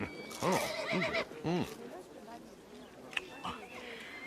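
A horse neighs loudly in a few rising-and-falling whinnies, followed by a softer neigh, with faint background noise.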